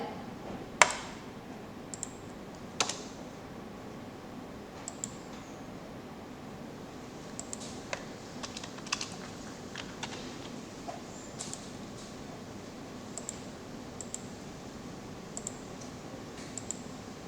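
Computer mouse clicks while an Android app layout is set up in a development tool, sharp isolated clicks spaced a second or two apart, quiet and close against a faint hiss.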